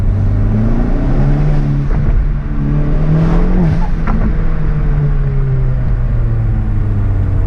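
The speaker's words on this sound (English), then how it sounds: "I left the exhaust in quiet mode so you can hear the intake a little bit better" A Hyundai Veloster N fitted with an SXTH Element intake revs steadily while idling with the exhaust in quiet mode, a loud, close, continuous engine drone whose pitch swells and dips with short throttle blips.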